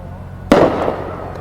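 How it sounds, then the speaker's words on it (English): Fireworks shot off near a railroad line give one sudden, loud close burst, followed by a fading crackle and rumble over faint background noise. "they were going to be shooting off fireworks"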